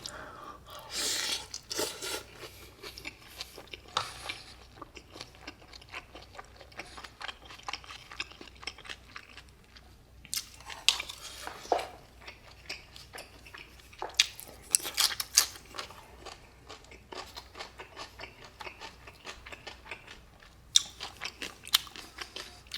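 Someone eats Chinese-style bibimbap, stir-fried with chili oil, making close, soft chewing and crunchy biting sounds in irregular bursts, with quiet stretches between mouthfuls and no talking.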